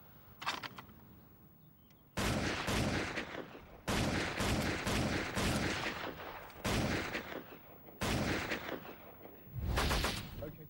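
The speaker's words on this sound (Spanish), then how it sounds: "Aquí tenemos una ametralladora Lewis, una de las clásicas de la Primera Guerra Mundial." A First World War Lewis machine gun fires loud, close bursts, four or five sustained volleys of rapid shots separated by short pauses, with a fainter burst at the start.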